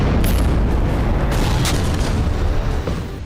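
An Indian Zorawar light tank roars in snowy mountains, producing a loud, continuous deep rumble that holds steady and then fades slightly toward the end.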